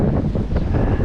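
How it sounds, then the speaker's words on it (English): Strong wind blowing outdoors beside the water during a fishing outing, a loud continuous buffeting roar against the microphone with no voices. "It is windy."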